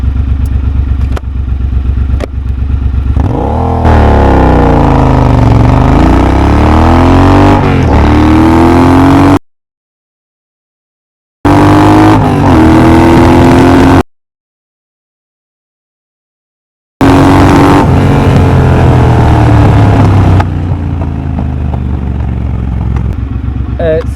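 A Triumph Bobber motorcycle with a drag pipe and de-cat pulls hard through a 0-60 mph run, its loud close exhaust rising in pitch through the gears, with two abrupt dropouts where the sound cuts to silence.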